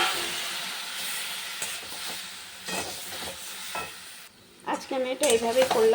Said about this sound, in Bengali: এই দেখো আদাটা ভাজা হয়ে গেছে, আমটা দিয়ে দিলাম।